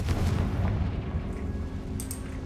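A Confringo fire curse explodes in Hogwarts Legacy combat, a heavy booming blast with rumbling low-end that decays, followed by a brief bright magical flicker near the end.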